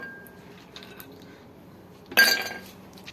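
Ice cubes dropped into a glass while making a white iced mocha: a quiet background, then a brief cluster of bright clinks and rattles as the cubes land.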